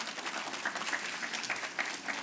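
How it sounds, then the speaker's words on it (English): Applause from an audience at a Ministry of Education ceremony celebrating CTE month, a steady patter of many hands clapping at moderate level with a few sharper individual claps standing out, no one speaking. "Please give all of them a round of applause."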